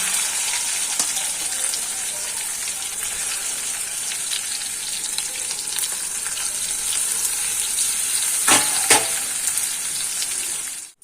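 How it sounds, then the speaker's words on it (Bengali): Shrimp fry in oil in a wok in a restaurant-style kitchen, giving a loud continuous sizzle like heavy rain, with a couple of sharp clinks near the end. "একইভাবে আমি চিংড়ি মাছটাকেও ভেজে নেব।"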